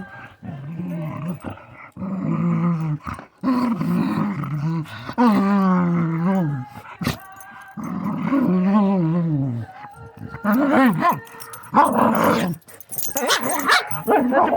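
Puppies bark, yip and growl in short playful bursts, close and fairly loud, with pauses between flurries.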